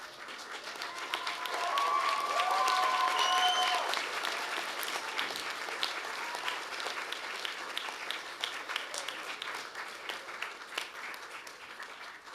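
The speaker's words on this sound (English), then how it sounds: "give them a rousing round of applause," Graduates at a UTS Business School graduation ceremony give rousing applause to their family and friends, a broad hall-filling wash of clapping that swells, then settles into steady applause with scattered voices.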